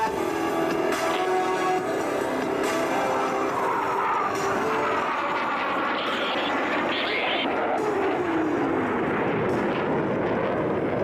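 A Blue Angels jet formation roars across at an air show as the jets converge and cross at center point, a loud continuous rushing engine noise with a falling pitch sweep as they pass, under steady announcer narration.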